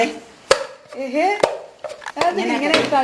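Chapati dough slapped and pounded by hand in a home kitchen, with several sharp thumps at irregular intervals and someone talking over the kneading.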